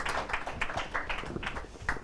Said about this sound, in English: how about a nice round of applause for our young ladies here?